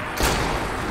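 A single sharp pistol shot in the zombie video game Dead Rising 3, a loud close report with a brief thudding tail.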